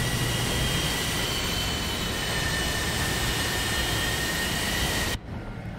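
An F-4 jet in War Thunder gives a loud, steady roar with a high whine layered over it, holding constant for about five seconds before dropping off abruptly.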